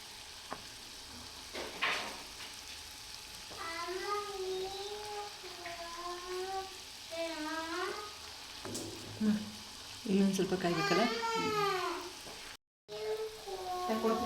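Buffalo-milk butter simmers into ghee in a pan, a steady foaming sizzle and bubbling hiss running throughout, with a voice talking over it at close range.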